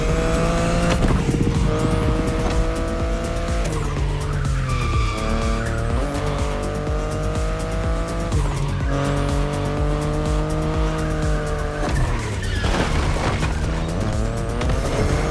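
A BMW i8 in The Crew Motorfest racing game drives hard, its engine droning and shifting steadily while tires squeal and skid in repeated long bursts, loud and close throughout with no talking.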